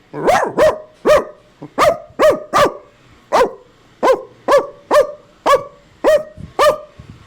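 A mimicry artist's voice imitates a pug's barks, a quick string of about fifteen sharp yaps in short bursts and pairs, close and loud.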